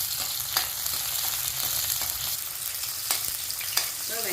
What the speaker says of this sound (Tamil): இப்போ எண்ணெய் காஞ்சிருச்சு நம்ம கடுகை போடுறோம் வெங்காயத்தை போடுறோம் வெங்காயம் நல்லா வதங்கணும்